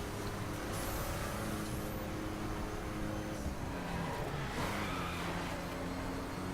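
Hummer H1 Alpha in The Crew racing game held at top speed, a loud steady engine and road roar filling the stretch with a few brief whooshes of passing traffic.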